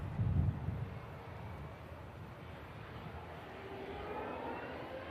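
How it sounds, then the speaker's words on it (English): A Pegasus airliner's engines spool up for departure to Istanbul, giving a steady broad roar at a distance that swells slightly toward the end, with wind buffeting the microphone early on. "Here we go, Pegasus for Istanbul. Spools up, makes a lovely racket."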